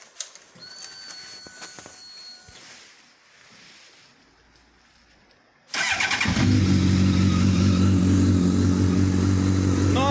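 A motorcycle fitted with aftermarket mufflers fires up after several seconds of quiet handling noise, then settles into a loud, steady, deep idle close by.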